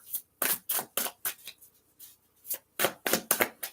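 A deck of tarot cards is shuffled with a quick series of crisp riffling and slapping bursts, close and fairly quiet, with short pauses between groups.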